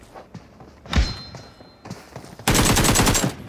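Gunfire in a mobile battle royale game: a few scattered single shots and thuds, then a loud, rapid burst of automatic fire near the end.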